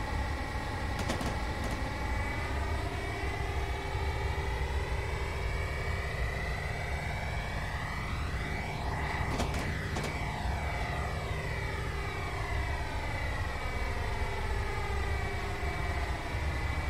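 A Class 165 train in Train Sim 2019 sweeps past, its steady engine drone rising and falling in pitch as it approaches and recedes, with brief clanks at the passes; no one talks.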